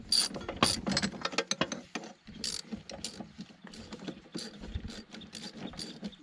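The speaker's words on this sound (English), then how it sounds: "take these two small bolts out of here" A hand ratchet backs out two small quarter-inch bolts threaded into a plastic mount on a Husqvarna LC22 all-wheel-drive mower, a close, quiet run of rapid clicking bursts with brief pauses between strokes.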